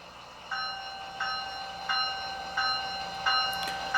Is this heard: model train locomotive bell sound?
yes